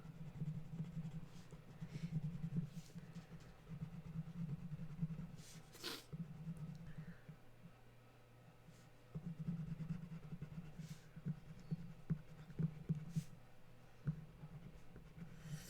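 A crayon or marker scratches steadily across paper while an alligator picture is coloured in, with short rhythmic strokes close by, a brief pause midway and then more scribbling.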